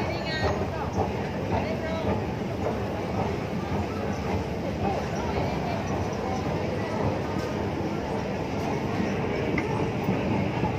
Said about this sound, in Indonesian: Saya pakai MRT yang downtown lain lagi.